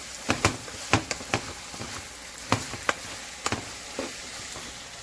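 Ground beef sizzles in a pan, broken by a string of sharp scraping and clattering strokes as it is stirred, close and fairly loud, with no talking.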